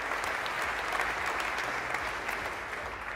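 An audience at a sustainable chef cooking competition final applauds a culinary award winner with steady, dense clapping throughout, heard at moderate distance.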